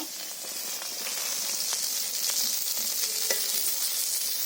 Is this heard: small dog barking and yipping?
no